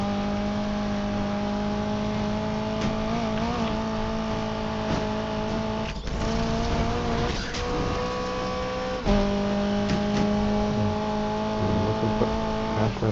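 A McLaren 600LT in the Need for Speed Unbound racing game, its engine droning loudly and steadily with pitch rising and falling through gear changes, plus brief tire-squeal bursts, continuous and close with no talking.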